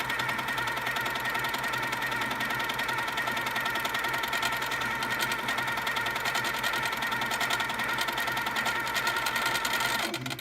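A sewing machine stitches continuously at a fast, even rhythm during free-motion quilting, close and steady, stopping right at the end.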